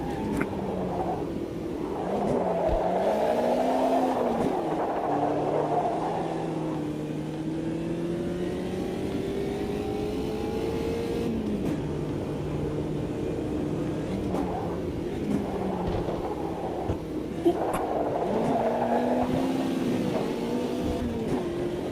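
Race cars on a track in a racing video game, engines revving and whining up and down through gear changes, loud and close, with cars sweeping past in a full grid.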